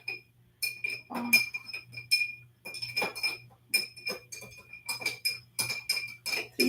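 A spoon clinks repeatedly against a glass while stirring a mixed drink, producing a steady run of bright, ringing taps that sound close and clear and continue without pause.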